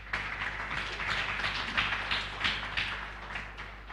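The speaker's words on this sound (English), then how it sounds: "Another round of applause for Ms. Robina." An audience at a forum on youth participation in democratic processes claps steadily for a speaker, a dense, continuous wash of many hands from a moderately distant crowd, slightly swelling and easing over a few seconds.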